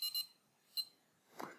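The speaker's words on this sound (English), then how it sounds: "So here I have an alarm that I'm going to use to test the sound insulation of the boxes." Small alarm used to test sound insulation of polystyrene and wood fibre boxes, giving short, shrill high-pitched beeps in brief bursts with gaps between, followed by a soft knock.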